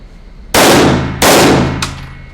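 Two loud, sharp gunshots fired at a target during live-fire shooting practice, about 0.7 seconds apart, each ringing out and decaying, with a fainter third crack just after.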